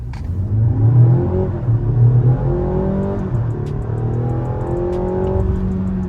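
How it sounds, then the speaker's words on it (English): A 2024 Mazda CX-90 SUV's four-cylinder engine strains and whines as it accelerates under heavy load through rising gear sweeps, droning steadily up close with no voices. "We just have to get over the whining of that four-cylinder trying to pull on such a heavy load."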